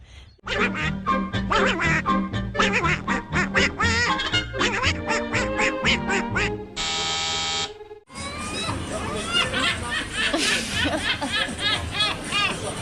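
Ducks quack repeatedly at a fish pond in Orange, NSW, a quick series of loud, close honking calls, followed by a steady electronic buzz and then people chattering over the outdoor background.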